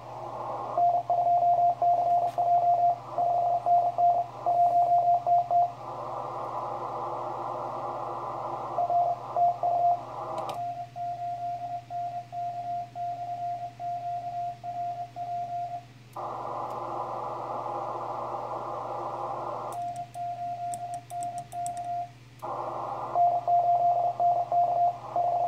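Morse code CW from an amateur radio station in Mexico during a DX contest, a loud steady stream of pitched dits and dahs in rapid keyed rhythm over a low receiver hum, broken by bursts of band noise.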